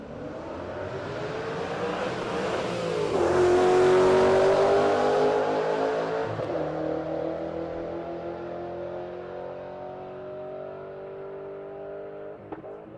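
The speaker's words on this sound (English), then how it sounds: "that's David Muth, the CTSV" A turbocharged LS-powered Cadillac CTS-V with a manual transmission accelerates hard at a drag race, its engine note climbing loudly as it passes close by, then fading into a sustained roar further down the track.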